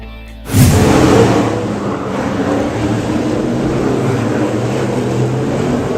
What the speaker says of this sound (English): Moving on now to NASCAR, coming to downtown Chicago as drivers race to qualify for its first ever race on city streets.